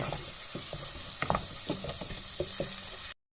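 Onions frying with ginger-garlic paste and red chili powder, stirred in a pan, giving a steady sizzle with scattered scraping taps of a spatula, close and continuous, then a brief gap of silence at the end.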